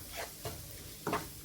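Spices frying in oil in a pan for Tunisian shakshuka, with a few soft stirring scrapes and a faint sizzle, quiet and close.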